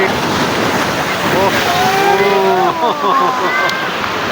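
Loud, steady roar of sea waves and wind on Digha beach at night, with several people's voices talking and calling over the continuous surf.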